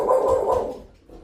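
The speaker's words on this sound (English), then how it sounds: "I hear a dog." A dog barks loudly and close by during an online podcast call, a short harmonic yelp fading into quieter background noise with no talking.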